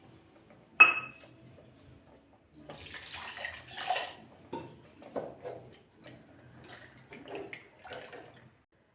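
Tamarind water poured into a pot of Mangaluru-style fish sambar, giving a short sloshing pour with a clink at the start, then intermittent liquid splashes and stirring noises, close and fairly quiet.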